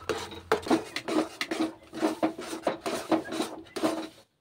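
Orange jelly sweet being stirred in a pan with ghee, a spoon scraping and knocking against the metal in a steady series of strokes, close and clear.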